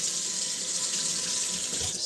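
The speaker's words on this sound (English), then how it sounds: "Just add some hot water." Hot water gushes steadily from a kitchen tap into a dirty Green Pan nonstick pan holding Dawn dish soap, a close, continuous rushing splash with no voices.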